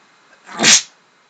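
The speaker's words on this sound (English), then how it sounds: "Sneezes." A single loud sneeze bursts out close by, a short sharp blast that fades quickly into quiet.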